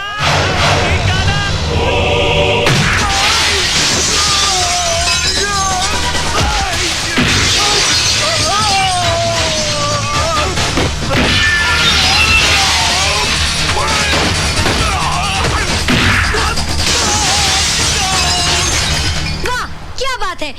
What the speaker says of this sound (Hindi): यू उठाया, यू मारा, कांच टूटा, बंदा बाहर